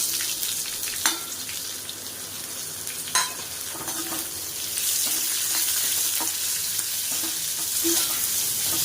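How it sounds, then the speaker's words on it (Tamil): Onions sautéing in a pan for a vegetable paya, with a steady sizzle, a few sharp spoon clanks against the pan and continuous scraping and stirring, close and fairly loud with no talking. "வெங்காயம் கொஞ்சம் நல்லா வதங்கட்டும்."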